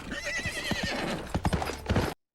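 Horses neighing and whinnying amid clopping hooves in a battlefield camp scene from the film Gladiator, loud and close, with several whinnies and hoof beats over swelling background music before cutting to silence.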